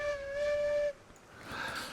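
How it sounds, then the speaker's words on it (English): A steam locomotive whistle in the train game Railroads Online gives a single sustained harmonic blast of about a second. It cuts off sharply, and a softer hiss or rush follows. "We also have our whistle."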